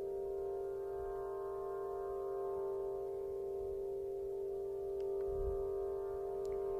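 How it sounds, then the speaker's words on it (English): Aeolian wind harp at the center of Stonehenge on a summer solstice, wind drawing steady droning tones from its strings: a faint, continuous layered hum with a low rumble of wind gusts underneath and no voices. "what you're hearing is an Aeolian harp, wind harp, placed in the center of Stonehenge on a summer solstice"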